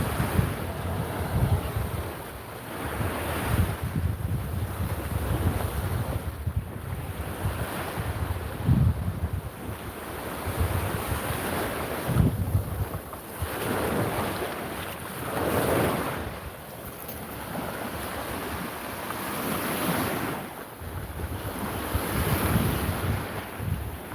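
Ocean waves break and wash onto a Fort Lauderdale beach in slow repeating surges, with strong wind buffeting the microphone between each rolling crash.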